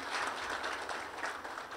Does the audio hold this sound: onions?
no